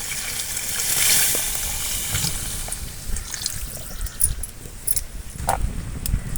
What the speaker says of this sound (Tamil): தேவையான அளவு நம்ம தண்ணி ஊற்றிக்கலாம்